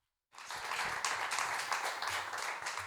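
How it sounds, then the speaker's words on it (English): An audience applauds for Harvey Cohen, steady dense clapping that starts abruptly after a moment of silence and holds at a moderate, even level. "Please make applause for Harvey Cohen."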